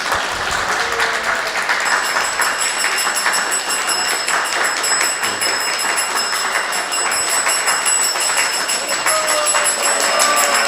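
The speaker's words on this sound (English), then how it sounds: "We need to really give a big hand applause." Audience applause welcoming a guest at a devotional talk, a sustained, fairly loud patter of many hands clapping with a faint high tone running beneath it.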